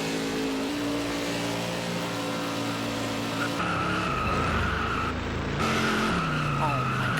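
Race cars at Pocono Raceway roar past as a pace car is wrecked, with loud, continuous engine drone, rising whines and tire squeal under a commentator's voice.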